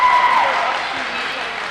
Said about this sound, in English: The bench applauding Whiteside.